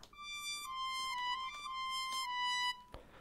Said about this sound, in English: English horn, which sounds like this.